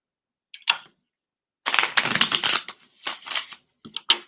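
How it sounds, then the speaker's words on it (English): A deck of tarot cards is shuffled close by in crisp riffling bursts: one brief flick, then a long dense shuffle, then a few shorter snaps. "I'm going to shuffle these cards up a little bit."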